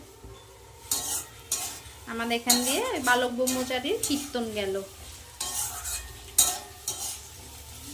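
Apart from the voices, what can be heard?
frying potatoes with onions, stirring in pan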